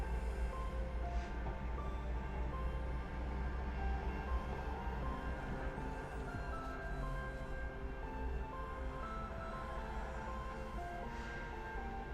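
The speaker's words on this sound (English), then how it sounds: "You are absolutely hearing a train." A train rolls past in the background as a steady, continuous low rumble with a rail-car hum, holding at an even level for about twelve seconds.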